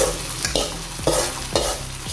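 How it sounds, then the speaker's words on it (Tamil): Onion tempering sizzles steadily in hot oil before going into sambar, with a spoon stirring in regular scraping strokes about every half second, close and clear. "இப்போ எடுத்து சாம்பாரில் போட்டுக்கலாம்."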